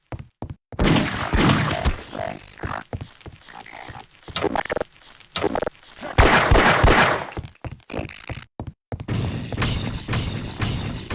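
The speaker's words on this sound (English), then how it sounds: "Or they throw, like, spore grenades." Spore grenades thrown and bursting in the Half-Life: Opposing Force shooter, heard as repeated thuds and splattering pops amid scattered gunfire across several seconds, some bursts loud and near, others quieter, with no voices.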